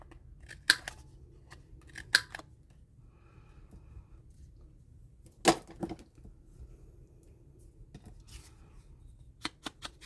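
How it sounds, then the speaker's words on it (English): Paper punch trimming the corners of scrapbook paper: a handful of sharp, isolated clicks and snips scattered across a quiet background, close by and fairly faint, with no talk. "I'm going to do the corners with a punch."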